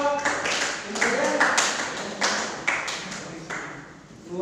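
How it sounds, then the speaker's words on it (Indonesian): Crowd clapping fills the space with dense, steady hand claps, some louder bursts rising and falling, mixed with a voice speaking over it. "Tepuk tangan buat Bapak"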